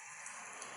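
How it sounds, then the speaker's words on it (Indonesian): Light rain, a brief soft steady hiss of falling drops, faint and even, with no voices. "Hari ini hujan."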